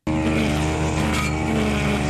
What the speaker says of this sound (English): They're cutting the grass and edging the lawn.